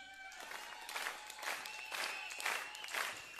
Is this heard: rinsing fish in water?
no